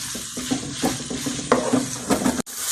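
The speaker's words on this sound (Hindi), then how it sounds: "ये देखिए माशाल्लाह कीमा मैंने फ्राई कर लिया, घी में अच्छी तरह मिक्स हो गया" Minced keema frying in ghee, with a spatula scraping and stirring through the meat over a steady close sizzle; no one speaks.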